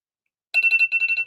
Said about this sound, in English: It's an alarm for something. Oh, that's the Klondike alarm.